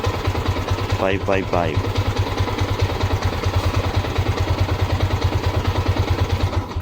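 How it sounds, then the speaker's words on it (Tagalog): A Yamaha Sniper 150 motorcycle engine idles steadily with a low, even rhythmic pulse throughout, while a voice speaks briefly over it near the start. "Yun, start ang motor natin."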